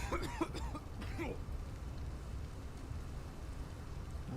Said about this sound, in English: That's the kind of cough you have when you're dying.